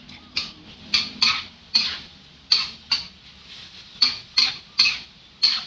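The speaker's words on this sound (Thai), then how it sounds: "ผัดทุกอย่างให้เข้ากันค่ะ" Seafood with squid tentacles and herbs stir-fried in a pan with sauces, a run of rhythmic scraping spatula strokes roughly every half second over a soft sizzle, close and clear with no talking.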